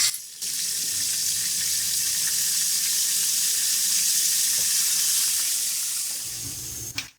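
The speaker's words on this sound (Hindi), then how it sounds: "2 स्टिक दालचीनी, 2 सब्ज इलायची, 8 से 10 काली मिर्च, 1 स्पून जीरा। हल्का सा रोस्ट करेंगे।" Whole cinnamon sticks, green cardamom, black peppercorns and cumin lightly roasting in hot oil, giving a loud, steady hiss that starts abruptly and cuts off at the end.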